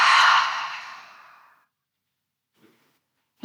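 A long breathy exhale through an open mouth making an "ah" sound, like fogging a mirror during a calming yoga breathing exercise, starts strong and fades over about a second and a half, then a faint breath follows.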